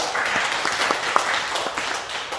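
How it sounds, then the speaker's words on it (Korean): Scattered applause from a lecture audience at a monthly meeting, a modest patter of claps continuing steadily for a couple of seconds with no talking over it. "다시 한번 큰 박수 부탁드릴게요."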